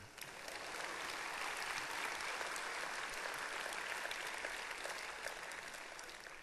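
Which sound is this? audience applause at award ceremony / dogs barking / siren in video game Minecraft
audience applause at award ceremony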